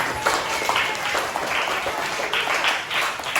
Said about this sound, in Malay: Okey, beri tepukan untuk diri masing-masing.